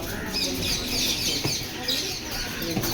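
Parrots call in Chennai, with shrill chattering mixed among other birdsong and cooing, fairly steady and close over a busy outdoor background, with faint voices nearby.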